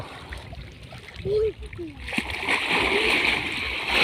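An elephant in musth plays in water, making splashes and sloshing. A brief tonal call or voice comes early, then sustained splashing and water noise follow.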